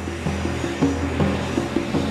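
An A-10 Thunderbolt II jet aircraft produces a loud, steady engine drone that pulses slightly with a rhythmic rise and fall, heard close and without voices.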